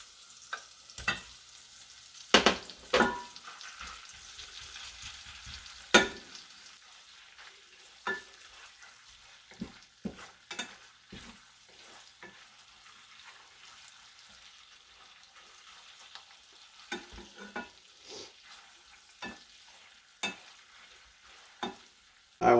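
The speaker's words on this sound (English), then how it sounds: "We're going to add our butter. We're going to get this melted down. And we're going to add our cream cheese." Butter and cream cheese melting in a pan for cream cheese pasta shells with walnuts, stirred with scattered clinks and scrapes over a faint, steady sizzle, close by and with no talk.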